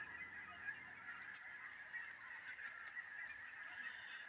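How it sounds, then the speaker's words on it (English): A large flock of Canada geese honking in a field beside woods, a continuous distant chorus of overlapping honks, steady and fairly faint, with no voices. "Can you hear all those geese?"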